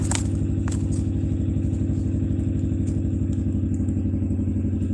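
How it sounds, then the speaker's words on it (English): A car riding roughly up toward a mountain, heard from inside as a loud, steady engine drone with a rhythmic pulsing rumble and occasional clattering knocks, with no talking. "You hear how rough my car is riding?"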